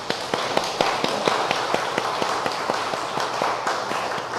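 Steady audience clapping at a special Buddhist memorial service in a hall, a sustained round of many hands applauding at moderate distance with sharp, evenly spaced claps and no voices.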